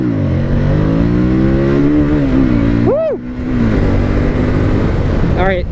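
Harley-Davidson Street Rod 750 V-twin motorcycle accelerating up onto one wheel, a loud close engine drone rising and falling in pitch with a quick rev spike midway and another burst near the end.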